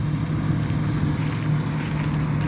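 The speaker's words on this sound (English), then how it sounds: "I just thought I heard a tractor coming up behind me" A tractor out in a wheat field during harvest gives a steady, fairly loud low engine drone that holds constant throughout, mixed with wind rumble and no speech.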